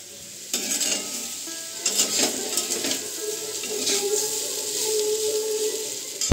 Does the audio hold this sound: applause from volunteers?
no